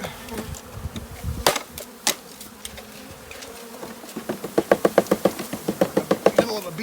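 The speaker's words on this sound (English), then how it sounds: "Middle of a bee swarm here" A honey bee swarm from a three-pound package of about 10,000 bees drones steadily close by as the bees are installed into a hive, with scattered knocks and then a fast run of rhythmic taps over the buzzing.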